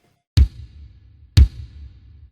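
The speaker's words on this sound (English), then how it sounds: "Kick sounds like this." Two isolated kick drum hits about a second apart, each a deep, punchy thump with a short decaying tail, played close and alone in an otherwise quiet clip.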